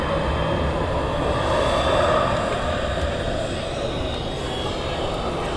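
A Jet2 airliner at Manchester Airport gives a steady, broad engine roar that holds at a fairly loud, even level throughout, with no distinct voices over it.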